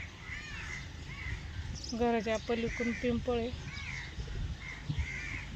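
A crow caws several times in a quick rhythmic burst, fairly close, near trees and nests while beans are being shelled, as a person talks quietly over outdoor background noise.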